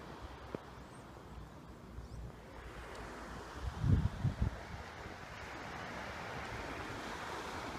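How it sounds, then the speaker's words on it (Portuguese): Sea waves washing onto a quiet beach, a continuous hiss of surf with a brief louder swell breaking near the middle, heard alone without talk. "Ouvindo o mar."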